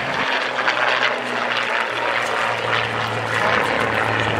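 Spitfire fighter plane at the Bournemouth Air Festival, its propeller engine giving a steady, loud droning roar with a low humming undertone that holds throughout as it flies overhead.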